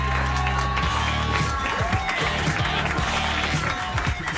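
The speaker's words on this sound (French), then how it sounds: "Je vous demande d'applaudir." Dense, steady applause from a theatre audience at a live radio show premiere carries through the whole moment, with some faint tonal sounds underneath.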